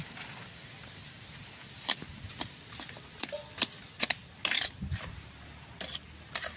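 Sugar melting in a pan for raw mango sandesh, stirred with a utensil that gives faint, irregular clinks and taps against the metal over a soft background hiss.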